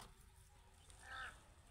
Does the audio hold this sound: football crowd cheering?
no